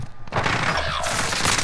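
Pistol fire in Call of Duty Warzone comes as a loud, dense burst of overlapping shots and booms that runs through the whole moment, close and harsh, with no talking.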